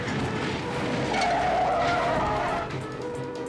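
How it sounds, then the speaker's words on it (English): Car tires squeal in a long loud skid during a stolen-car police chase, with engine noise underneath, ending in a crash into a stalled car and a glance off another. "The teens slam into a stalled car and ricochet off another."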